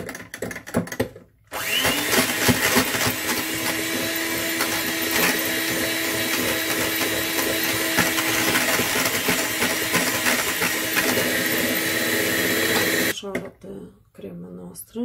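Electric hand mixer whipping cream with stabilizer added, a loud steady whine running for about twelve seconds, starting abruptly and cutting off, with brief talk before and after.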